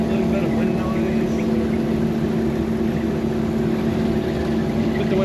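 A 1962 Nash Metropolitan convertible cruising along with the window up, a steady low engine hum blended with a constant rush of wind noise, even and unbroken throughout.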